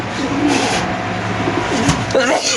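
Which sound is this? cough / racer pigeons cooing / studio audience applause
racer pigeons cooing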